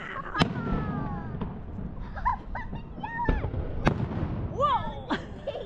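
Fireworks bursting near a boat with sharp bangs and crackles, several explosions spaced over a few seconds, with excited voices and cheering around them.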